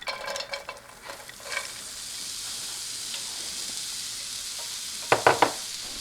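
Onions hitting a hot pan of olive oil, a burst of scraping stirs up front settling into a steady hiss of sizzling, then a few sharp utensil clacks near the end.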